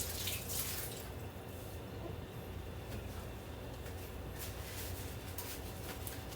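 Water running steadily from a kitchen tap while something is washed off during scone baking, a continuous soft splashing hiss with occasional louder splashes.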